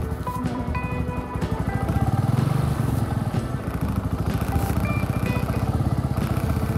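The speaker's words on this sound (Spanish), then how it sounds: "Siempre es importante calentar, aunque sea 30 segundos, nuestro motor." A motorcycle engine idles while warming up, a fast even putter with a mechanical clatter, close and steady throughout, with a few faint beeps in the background.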